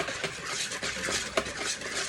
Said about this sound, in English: We're just going to whisk that together.